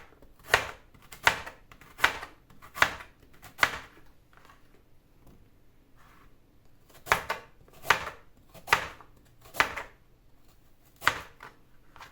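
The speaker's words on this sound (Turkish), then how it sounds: "Havuçlarımı da bu şekilde yan yan doğruyorum." Knife chops carrots on a cutting board in two bursts of sharp, evenly spaced thuds, about five strokes each with a pause between, close and clear.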